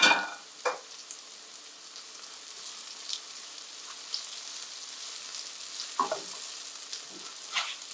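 Garlic fries with softened onions in a pan for Afghan burani banjan eggplant, making a quiet, steady sizzle punctuated by a few light clinks and stirring taps.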